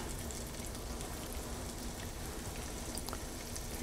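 Onions dropped into a hot pan with clarified butter, a faint, even crackling sizzle continuing steadily.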